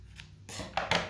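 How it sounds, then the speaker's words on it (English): Scissors make two crisp snips close by, cutting slits into the front end of a homemade rubber-band-powered Mars rover model. The snips come in quick succession after a brief rustle. "Now you're going to take your pair of scissors. You're going to cut two slits in the front end."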